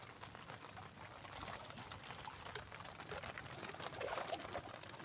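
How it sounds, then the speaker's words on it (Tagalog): Heavy rain pouring on a mangrove river: a faint, dense hiss of falling water with steady splashing and patter, continuous and fairly distant, with no voices. "Grabe. Ulan dito sa amin."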